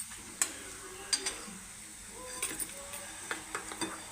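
Chopped onion and ground masala paste frying in a pan for chickpea usal: a quiet, steady sizzle broken by scattered scrapes and taps as the mixture is stirred and turned, with no voices.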